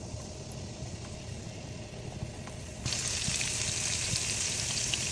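Garlic frying in oil in a pan, a steady broadband sizzle that suddenly grows louder and brighter about halfway through, with continuous crackle and no talk.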